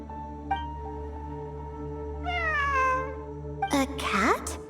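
A cat meows several times in the video game Genshin Impact, with clear, close, drawn-out calls over a steady musical drone; the last cries are louder and overlapping.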